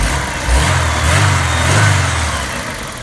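A Vauxhall Mk2 car's engine runs while warming up, heard close and loud as a low rumbling idle with a couple of gentle revs rising and falling, no talking.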